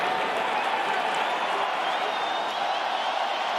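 A fight-night crowd cheers and applauds in a dense, steady roar that fills the whole moment without breaks.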